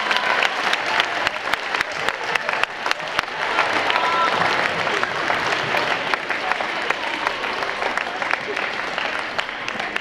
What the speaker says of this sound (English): Students, let's give our parents and family and friends a round of applause.